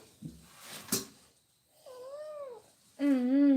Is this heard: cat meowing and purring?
yes